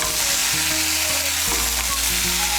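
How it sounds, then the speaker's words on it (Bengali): Jackfruit and potato chunks sauté with spices in a hot pan, a steady close sizzle with scraping stirs throughout, no voices. "মিশিয়ে নিয়ে এঁচোড় আর আলুটাকে একটু কষিয়ে নেব"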